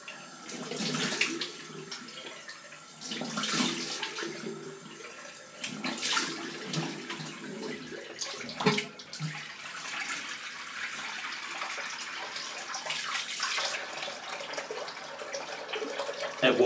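Running tap water rinses a Gillette Aristocrat safety razor, with splashing bursts that come and go close by at a moderate level and no talking.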